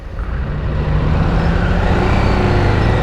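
A 2022 KTM 890 Adventure R motorcycle ridden on pavement, its engine droning loud and steady with a slowly rising pitch under heavy wind rush, with no talking.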